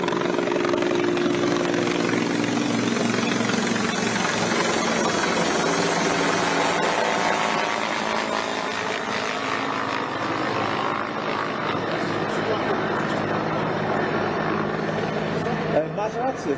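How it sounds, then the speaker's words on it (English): A rescue helicopter circles continuously over the crash site of a mid-air collision at Reagan airport in Washington, DC. Its steady engine roar and rotor wash fill the background under ongoing speech. "Ten śmigłowiec, który tutaj non-stop lata, to jest jeden ze śmigłowców ratunkowych."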